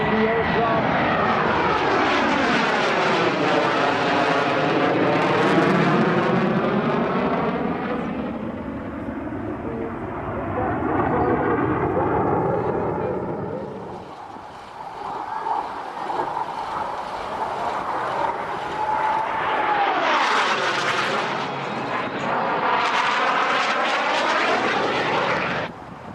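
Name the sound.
aircraft engine as the aircraft rolls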